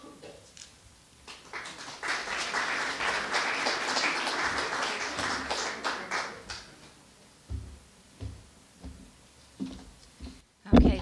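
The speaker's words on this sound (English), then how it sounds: "please enjoy and help us applaud for Annabelle" Applause from an audience at an association meeting introducing a director and trustee, a dense spell of clapping that thins into scattered claps and fades out.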